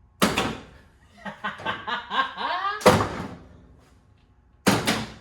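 The door of a 1965 Mustang custom hot rod on a new body shuts with a sharp close thud, followed by chuckling and excited voices, then another solid door clunk.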